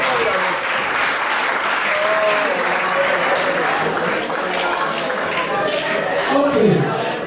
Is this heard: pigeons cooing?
no